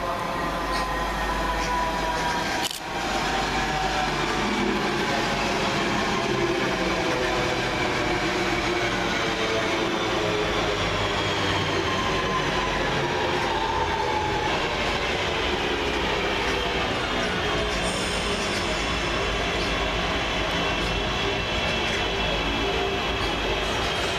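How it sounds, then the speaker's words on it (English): A Class 323 electric train rumbles steadily close by arriving at Bournville station, with rolling wheel noise and a rising whine as it moves along the track, continuous throughout. "the next train in is 323-221 and 323-208"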